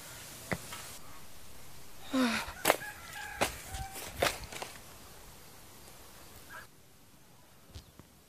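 Chickens cluck and squawk in short, irregular bursts against a quiet background, some calls fairly close and sharp, with a few faint scuffs between them.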